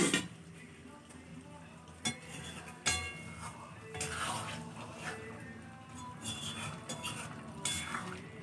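A mutton curry with potatoes is stirred in a pot, quiet scraping and clinks of a spoon against metal with a few sharper knocks over a low simmer.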